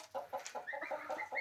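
Laying hens cluck close by in an evening coop, a quick run of short, clipped, rhythmic calls with no talk over them.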